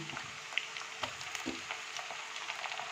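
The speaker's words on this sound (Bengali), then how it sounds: "এবার একটু এটাকে লাল লাল করে ভেজে নেব" Mutton pieces fry in a pan with a pinch of sugar for a home-style Sunday curry, giving a soft, close sizzle with faint pops and stirring taps.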